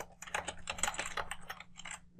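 Quick typing on a computer keyboard, a close, steady run of light key clicks over roughly two seconds with no voices.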